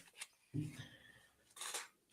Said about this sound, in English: I like this deck. Yeah. It's shuffles well, surprisingly.